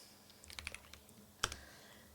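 Someone types on a computer keyboard while coding in Flutter and Dart, a short quiet burst of clicks followed by one sharper keystroke in a silent room.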